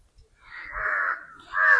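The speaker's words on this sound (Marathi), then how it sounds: "एवढे कावळे?" Crows caw in two drawn-out, harsh bursts, the second louder. They sound close and carry no talk, and the setting is an amusement-park outing.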